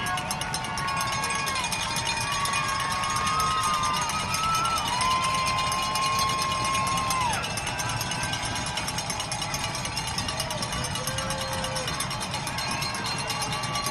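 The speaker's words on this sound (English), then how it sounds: "Hear the crowd getting loud here at Plainfield High School" Crowd noise at a Plainfield High School varsity football game swells into a steady, sustained roar from a packed stand, with scattered whistles and shouts riding over the continuous din for the whole stretch.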